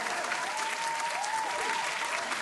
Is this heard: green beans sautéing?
no